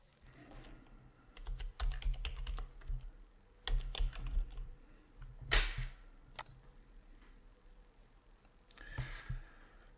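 An administrator username and password are typed on a computer keyboard in quick, clattering bursts of keystrokes with short pauses, close and clear.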